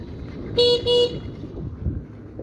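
Two short, loud honks from a scooter horn, close by and back to back, sounding as the rider nears a turn outside a gurdwara, with quiet road noise before and after.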